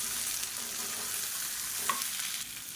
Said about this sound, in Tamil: அதை நல்லா எண்ணெயில் வதக்கிக்கலாம்